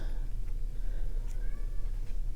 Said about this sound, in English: Oh, my poor cat.